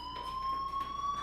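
An electronic fire alarm in the video game Life Is Strange sounds a steady, continuous tone with faint overtones, held without a break at moderate level.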